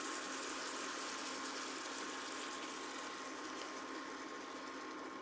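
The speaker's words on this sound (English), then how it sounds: "The last thing we're gonna add is 1 cup of heavy cream." Heavy cream poured into a simmering pan of keto chicken Florentine sauce, a steady broadband liquid rush and sizzle that holds evenly loud for several seconds with no talking.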